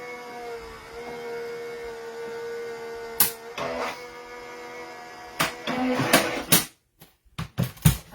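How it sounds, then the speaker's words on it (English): Die cutting machine feeding paper through for papercraft, a steady mechanical hum and whir with faint tonal rumble, then a few clicks and handling knocks near the end, close and alone. "I'm going to run that through my die cutting machine real quick."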